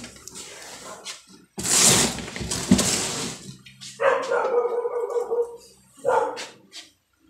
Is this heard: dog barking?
yes